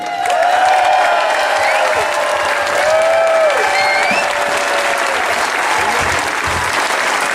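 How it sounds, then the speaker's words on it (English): Sustained applause with scattered cheers from a crowd at an outdoor marriage equality rally in Taylor Square, Sydney, steady and loud from start to finish, with faint whistles on top. "Everybody give a massive round of applause for Rodney Croome."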